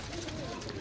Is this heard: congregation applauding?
no